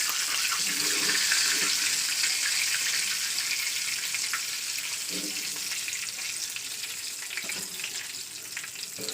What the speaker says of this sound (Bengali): আর বাইরে প্রচণ্ড বৃষ্টি হচ্ছে আমাদের এখানে